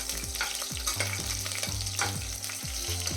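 Star anise, cloves, cardamom, kalpasi, cinnamon and green chillies sautéing in hot oil for mushroom biryani, a loud, steady crackling sizzle close up with rhythmic spoon strokes scraping the pan every half second or so.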